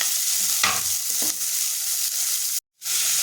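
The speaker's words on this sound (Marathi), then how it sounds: "बारीक चिरून घेतलेला लसूण आणि कांदा टाकून परतून घ्यायचा कढीपत्ता आणि छान परतून घ्यायचे" Finely chopped garlic and onion with curry leaves sauté in a hot pan, a steady loud sizzle with scraping stirs throughout and a brief cut to near silence before the frying resumes.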